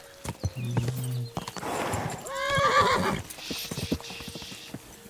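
A horse whinnies loudly with a long, shaky call while hooves clop irregularly on hard ground nearby.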